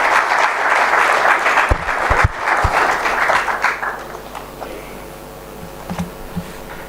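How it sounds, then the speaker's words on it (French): Audience applauding an archbishop arriving to speak at a morning reflection gathering, dense loud clapping that thins out into scattered claps and fades after a few seconds. "On acclame, s'il vous plaît."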